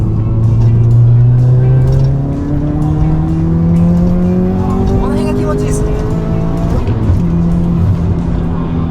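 A Subaru Legacy BP5 fitted with a GRB turbo engine revs hard toward its upper range, with steady rising harmonics and a loud, sustained drone as it climbs, and a voice comments over the engine partway through.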